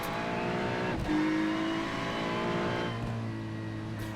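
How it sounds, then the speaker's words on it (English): A GT3 race car at Bathurst in a racing video game, its engine note holding steady tones that shift pitch around gear changes, with short sharp bursts; loud and close throughout, no voices. "if I can't hear my engine and my gear shifts and my braking, then I'll screw up"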